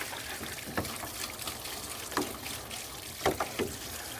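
Rainwater spills and trickles from a diverter spout beside a full IBC tote rain barrel, a soft continuous watery flow with a few louder splashes and drips.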